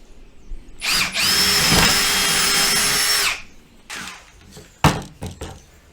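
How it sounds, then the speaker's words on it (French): Power drill boring into wood while building a viking chair: a loud, steady high whine for about two seconds with a short rev before it, followed by scattered knocks and handling clatter. "Je vais repercer encore une fois."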